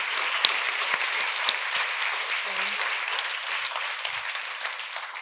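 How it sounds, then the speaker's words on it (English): Audience applause for panelists at the close of the President's Design Award 2023 recipients' forum, a steady moderately loud wash of many hands clapping with a few sharper claps standing out, sustained throughout. "Shall we give them another round of applause"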